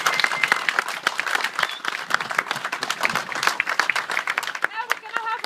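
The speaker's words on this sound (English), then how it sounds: "if we could just have a round of applause for Tracy" Audience applause at the official opening of a base in Milford Haven, many hands clapping steadily and fairly close for about five seconds, with a few voices mixed in.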